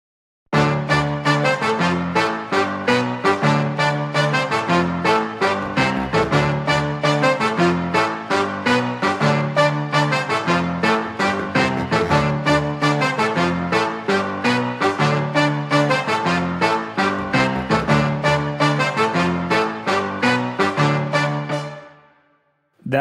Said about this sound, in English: you really hear the piano punch through the mix